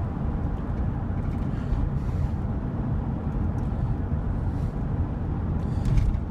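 A 1999 Chevy 5.7 Vortec V8 idling with a suspected lifter, piston slap, wrist pin or rod knock, heard as a continuous dense low rumble with faint rapid ticking riding on top, steady and close.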